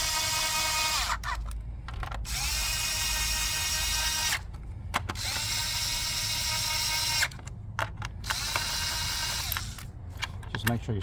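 A 1/4-inch impact gun drives spark plug coil bolts on a 2015 Honda Accord Sport 2.4 L, firing in several loud buzzing bursts separated by brief pauses, with someone talking in between.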